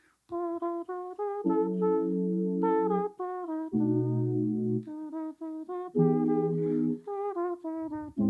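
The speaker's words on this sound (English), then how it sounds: "This is like from 1981. This is a cool synth." A bright 1981 synthesizer plays a short melodic phrase, lead notes alternating with sustained chord stabs, clean and steady with no voices.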